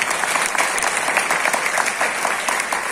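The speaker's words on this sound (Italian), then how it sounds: "quindi un applauso fatevelo voi, grazie mille davvero" Theatre audience at Teatro Fratello Sole in Busto Arsizio breaks into dense, continuous applause, many hands clapping together at close range, loud and steady throughout with no voices on top.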